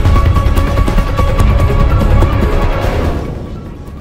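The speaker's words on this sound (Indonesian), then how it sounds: "Perlahan aku mendengar suara gemuruh yang makin lama semakin keras." A landslide behind a house sends a loud, continuous rumbling crash that churns for a few seconds, then eases and fades toward the end.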